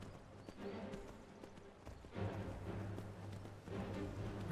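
Horse hooves clip-clop steadily in Skyrim, a moderate rhythmic plodding with ambient game sound beneath and no talk.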